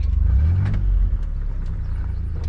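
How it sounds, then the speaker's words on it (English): A vehicle approaching along a road past a driveway, its engine rumble swelling nearer and louder before easing slightly, heard alone. "I hear a vehicle coming."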